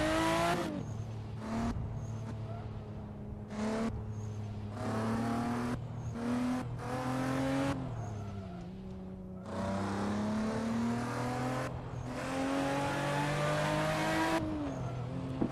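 A Toyota Supra engine in the driving game Assetto Corsa revs hard and loud on a mountain road, climbing and dropping in pitch through repeated gear shifts, with no voices over it.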